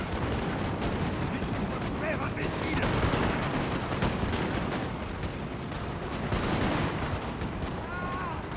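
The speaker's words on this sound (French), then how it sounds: "Canon de 6 livres, paré à tirer." Napoleon Total War game battle audio with 6-pounder cannon artillery fire: dense, continuous booms and crackling gunfire volleys filling the scene, loud and sustained throughout.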